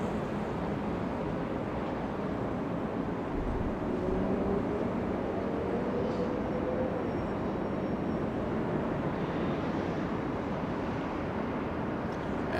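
A Boeing 747 four-engine jet arriving at Los Angeles International Airport: a loud, steady broadband roar of engines and rushing air that holds constant throughout, with no voices.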